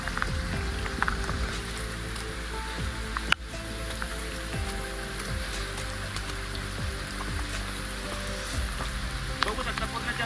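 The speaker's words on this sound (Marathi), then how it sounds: "पाऊस पण सुरू झालाय आणि फॉग पण लय आल्यात" Heavy rain pours through the forest on the Savlya Ghat trek in Tamhini Ghat amid thick fog, a steady, dense, close hiss that runs unbroken throughout, with one sharp knock partway through.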